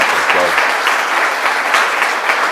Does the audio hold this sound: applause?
yes